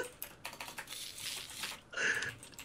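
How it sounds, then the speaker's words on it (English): Quick, irregular clicking of computer keys, fairly faint and close, with a brief louder burst of tapping near the end. "Now there's someone else typing."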